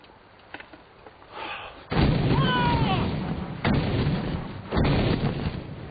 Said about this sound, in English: Our guns at last.